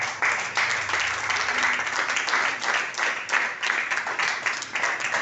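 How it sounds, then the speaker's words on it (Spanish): Congregation applause during a Sunday communion service at a Christian church, a sustained, thick wash of many people clapping for over five seconds at an even level, with no talking over it. "si el aplauso es para el Señor, dáselo fuerte,"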